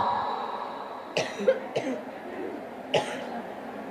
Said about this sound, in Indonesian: Ini saya teriak-teriak sampai batuk nih